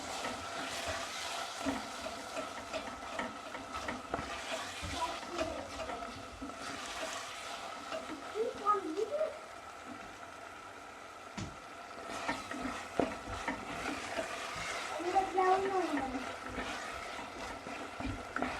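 Onions softening in a pan for a stuffed mushroom dish with béchamel sauce: a soft, steady sizzle with occasional stirring scrapes, low and continuous, with a faint voice briefly in the background.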